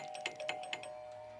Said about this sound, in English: She would never ring the doorbell so many times.